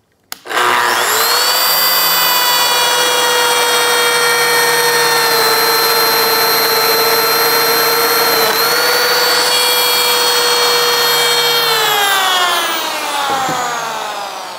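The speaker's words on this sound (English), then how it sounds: "that is what makes the tool engage that oscillating function." A Lamello Zeta biscuit joiner cutting into wood with its oscillating function engaged gives a loud, steady high-pitched whine for about eleven seconds, dips in pitch as it winds down, then stops.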